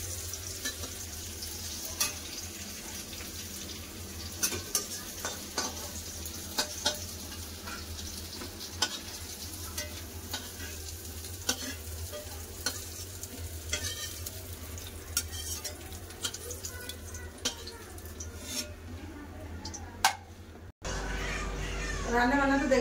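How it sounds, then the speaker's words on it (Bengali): Kakrol (spiny gourd) fries in a pan with a low, continuous sizzle and scattered scraping stir clicks, fairly faint and close, with a voice talking intermittently over it near the end. "কাঁকরোল ভাজা হয়ে গেছে, আমি কাঁকরোল ভাজা তুলে নেবো"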